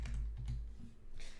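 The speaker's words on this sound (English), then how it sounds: "So I'm gonna type" Several quick keystrokes on a computer keyboard, close and soft, tapping in an uneven rhythm with no talk.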